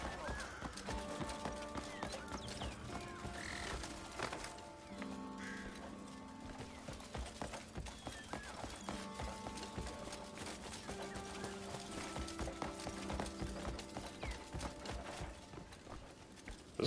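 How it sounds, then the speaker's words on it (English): A horse's hooves clop and gallop through the video game Crimson Desert, the rhythmic beats sitting under sustained musical tones and game ambience at moderate level. "when I come riding up this hill on my horse"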